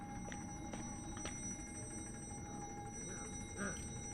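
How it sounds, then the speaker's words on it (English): An alarm-clock-like ringing comes from a truck in the video game You Are Empty, a faint steady tone with soft ticks and chimes under a low background hum. "Why is this truck making an alarm clock noise?"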